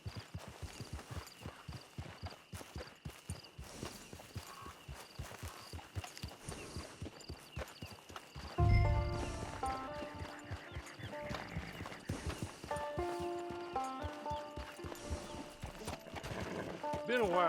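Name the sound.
horse hooves in video game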